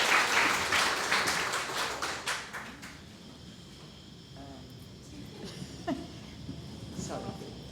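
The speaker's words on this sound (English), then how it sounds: "please give them one more big round of applause to welcome them" Applause from an audience fills the opening seconds, then fades into a quieter room with scattered small sounds.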